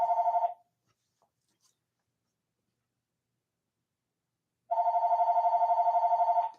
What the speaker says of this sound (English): There goes the phone.